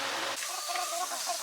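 Chickens eating sunflower seeds cluck briefly, close by, over a dense background hiss.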